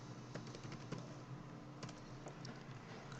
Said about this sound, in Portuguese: Para acessar a ferramenta, você vai digitar Google